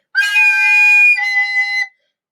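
A recorder played with finger holes not fully covered gives a shrill, breathy squeaking tone that wavers and shifts pitch partway through, close and loud, held for under two seconds.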